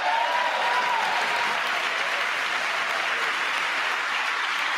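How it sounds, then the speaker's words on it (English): Lawmakers in a packed chamber during a presidential address to the nation give a loud, continuous round of applause, a dense roar of clapping that stays steady throughout, with a faint raised voice briefly audible near the start. "some Dems are clapping"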